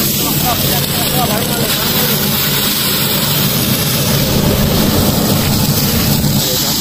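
A motor drives paddy threshing as a loud, steady mechanical drone throughout, with people talking over it.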